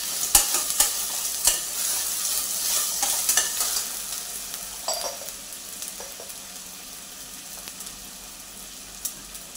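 Onion and spices sauté in a pan on a home stove while making methi corn pulao, with steady sizzling, scraping spatula stirs and a few clinks of metal, all close up and without talk.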